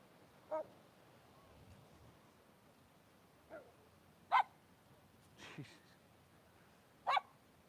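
A dog barks now and then at an oceanfront morning yoga session, sharp single barks spaced a second or more apart, some fairly loud and others faint, over a quiet background.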